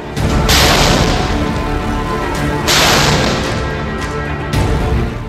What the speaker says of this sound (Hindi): हिंदुस्तान की नई तोप ATAGS ने 21 तोपों की सलामी दी।